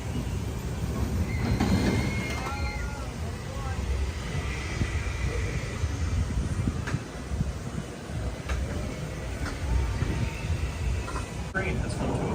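A Woodstock Express roller coaster train at Dorney Park rumbles along its track in a steady, broad roar, with people talking nearby over the running noise.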